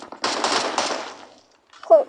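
Automatic gunfire in PUBG, a rapid burst of shots lasting about a second, fairly loud and close, followed by a short pause and a brief voice.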